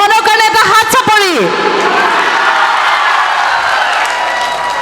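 Applause and cheering from the crowd at a live Bihu stage show in Bokakhat, a broad sustained wash of clapping that swells after a brief stretch of talk and keeps going loudly to the end.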